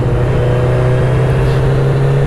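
A used project motorcycle with 60k miles, a bad clutch and an oil leak, its engine droning loudly and steadily with a constant tonal hum while riding at low gear.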